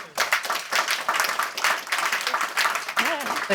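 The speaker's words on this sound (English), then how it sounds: "They're clapping like you've already won" Audience at a maths summit conversation event clapping, a dense burst of applause with pulsing swells, close and fairly loud, and a voice briefly rising over the clapping near the end.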